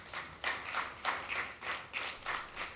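Audience clapping at a televised quiz contest between regional district teams, a small group striking in a loose rhythm of about six distinct swells, fairly faint and without any voices over it.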